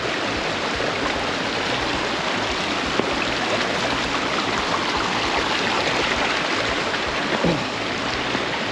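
A river in Dominica, crossed on foot with dogs during a rodent hunt, rushes steadily and loudly close by. Its broad, continuous flow lasts throughout, with no voices.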